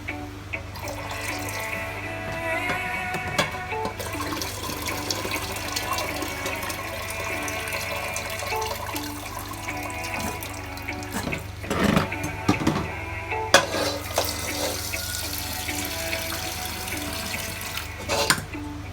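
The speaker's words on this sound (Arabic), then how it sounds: "غادي نصفي هاد الماء هذا ونزيد ماء اخر ان شاء الله" At a kitchen sink, cooking water from a pot of Moroccan meat with prunes is drained and fresh water is run in: a steady splashing tap stream with gurgles, drips and louder sloshing bursts toward the end.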